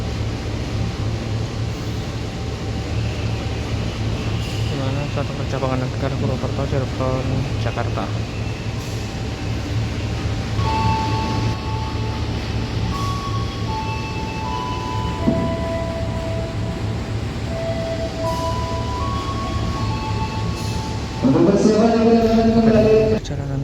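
Kahuripan passenger train rolling into Kroya junction station, a steady low rumble of wheels and cabin noise with brief tonal squeals near the end, under continuous onboard talk.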